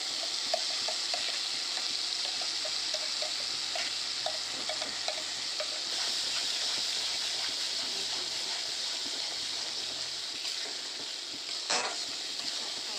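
Spice paste for chicken bharta sizzles steadily in a pan while being stirred, a continuous frying hiss with occasional scraping clinks, no talking.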